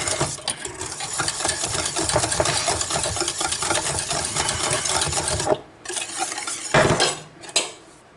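Lemon tart filling with egg whites stirred in a pot on the stove, loud close rasping and scraping of a utensil against the pot, steady then broken by brief pauses near the end.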